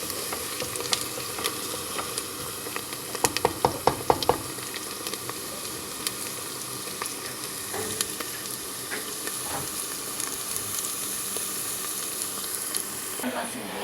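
Tomato and pepper paste frying in butter for Turkish buttered white bean stew, with a steady sizzle and hiss, a short burst of spoon stirring clatter near the start, then continuous frying alone.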